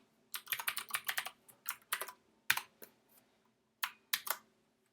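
Fingers tap on a computer keyboard in quick irregular bursts of close, crisp clicks, broken by short pauses and a few isolated keystrokes, with no talking.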